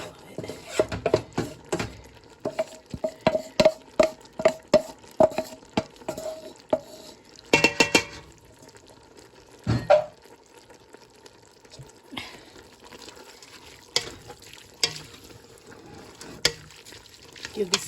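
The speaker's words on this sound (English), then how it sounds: "Give this a good stir." Bolognese sauce being stirred in a pan, with repeated scraping and clattering strokes of a utensil over a soft sizzle, in irregular bursts throughout.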